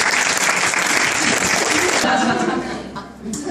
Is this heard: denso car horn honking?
no